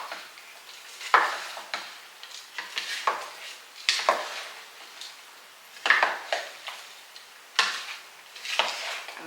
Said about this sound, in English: Get this stirred up.